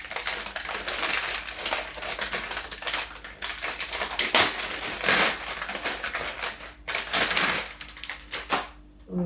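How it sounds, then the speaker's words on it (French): A new silicone muffin mould is pulled free of its packaging in a kitchen, producing close, loud crackling and crinkling rustles in irregular bursts, with brief pauses between handling movements. "Je vais cela dit peut-être l'enlever quand même de l'emballage."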